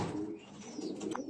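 Golden breeder pigeons coo softly and briefly near their chicks, a low murmuring call with a faint chirp at the end, no talking.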